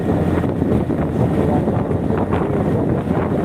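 A small motorbike rides along a road through Pangalengan, steady wind buffeting the microphone in a loud continuous rush that masks the engine, with no talk.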